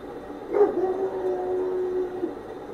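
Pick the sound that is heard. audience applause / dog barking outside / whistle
dog barking outside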